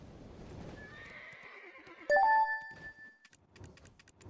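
A horse in a video game neighs as the rider mounts up, a loud bright whinny with clear ringing tones rising out of quieter game ambience and faint hoof clops, followed by scattered soft game sounds.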